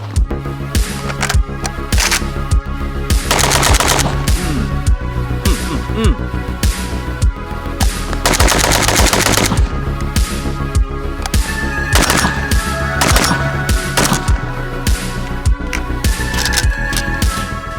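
Rapid, continuous gunfire from Galil ACE rifles and other guns at an outdoor shooting range, dense overlapping cracks and bursts, loud and sustained with no talk.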